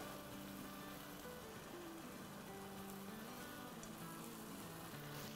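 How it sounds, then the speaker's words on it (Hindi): Chicken keema and potatoes sizzling as they fry in a pan, a faint, steady crackling hiss that continues evenly without pause, with no voices. "देखिए ये भूनते जा रहे हैं हम"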